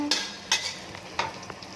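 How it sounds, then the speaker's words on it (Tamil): Ginger, onion and green chili sizzle in hot oil while a utensil scrapes and stirs the pan in short, repeated strokes. "இஞ்சி வெங்காயம் ஊசி மிளகா கருவேப்பிலை இதெல்லாம் போட்டு நல்லா தாளிக்கணும்"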